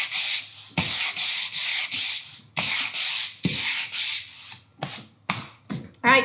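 A 150-grit sanding block scrubs across a wooden board in steady, close back-and-forth strokes, about a dozen rasping passes that shorten and quicken toward the end, with no talking.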